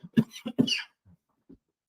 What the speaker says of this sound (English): It's not a smoker's cough, so that's probably me just talking too much.